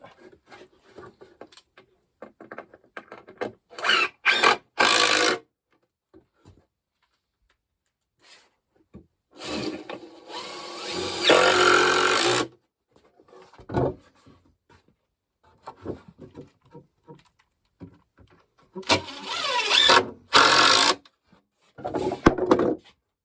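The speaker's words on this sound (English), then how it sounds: "And this is just a 1-inch spade bit." A 1-inch spade bit drills into wood while a floating beaver trap is being built, heard as several separate close bursts of harsh, grinding whir, each lasting a second or two, with near-silent gaps between them.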